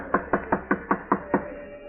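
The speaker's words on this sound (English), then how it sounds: "Knock, George. Knock." Seven evenly spaced knocks on a door in an old-time radio drama, close and fairly loud, with a steady rhythm and a brief pause between each rap.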